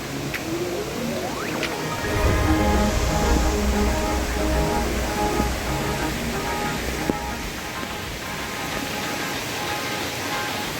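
Rain-swollen mountain stream on a hill trek, a steady broad rush of flowing water, fairly loud and continuous, with a brief low rumble building early on.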